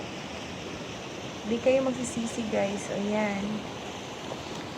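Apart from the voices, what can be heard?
flowing stream current near rock formation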